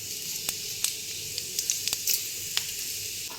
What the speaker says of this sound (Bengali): সর্ষে তেলের উপর আমি 5 ফোড়ন দিচ্ছি।